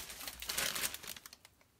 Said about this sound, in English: there's just no way to open this without making y'all listen. Sorry. So we have crinkle paper